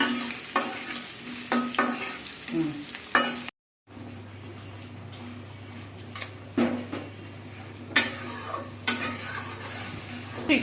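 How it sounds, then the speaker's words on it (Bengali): Rui fish frying in a pan with okra as it is stirred, giving a steady sizzle broken by repeated scraping and clinking strokes of a spoon against the pan, close and fairly loud, with one brief dropout partway through. "মাছগুলো এখন কষাবো কষিয়ে তারপর হচ্ছে গিয়ে ভেন্ডি দিয়ে দিয়ে মাছগুলারে ভালো করে"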